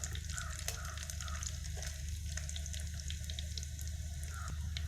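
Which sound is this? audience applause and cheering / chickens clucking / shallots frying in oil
shallots frying in oil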